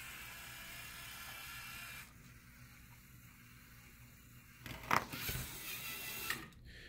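A LEGO medium motor lifting a lever whirs quietly, then shifts to a softer hum before a brief louder mechanical clatter and click near the end.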